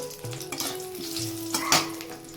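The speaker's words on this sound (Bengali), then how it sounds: "ওখানে আরেকটু তেল দিয়ে এখন শুকনো লঙ্কা তেজপাতা দিয়ে দিয়েছি" Dried chillies and bay leaves fry in oil in a wok, giving a close, steady sizzle with brief crackling flare-ups and a low hum underneath, with no voices.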